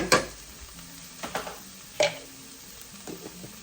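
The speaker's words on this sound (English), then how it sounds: "now I'm gonna let this saute for a few minutes until the onions kind of get a little bit translucent" Garlic and onions sautéing in a pan make a quiet sizzle, broken by a few sharp utensil clinks and scrapes against the pan, close by with no talking.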